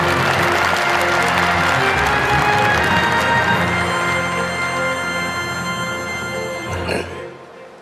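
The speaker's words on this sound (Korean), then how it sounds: "뜨거운 박수로 맞이해 주시기 바랍니다" A large audience gathered for the launch meeting of the Democratic Peaceful Unification Advisory Council applauds warmly to welcome the senior vice-chairman, a dense, sustained round of clapping that thins and fades out near the end.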